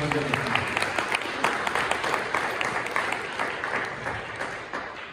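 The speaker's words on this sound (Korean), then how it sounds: "여러분, 이분들에게 다시 한번 뜨거운 박수를 보내주시면 감사하겠습니다" An audience at a community forum in Toronto claps steadily in sustained applause, dense and even, gradually fading slightly toward the end.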